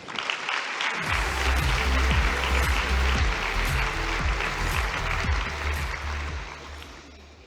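Audience applause welcoming Australian company director and writer Dr. Kirstin Ferguson at an International Women's Day event: a sudden burst of clapping from a sizeable crowd that holds steady for several seconds, then starts to thin toward the end.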